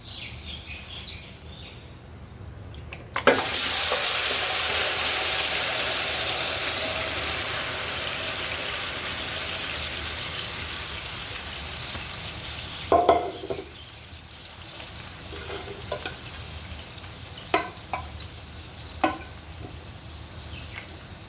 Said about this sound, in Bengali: প্রথমে আমি মাংসটা দিয়ে দিচ্ছি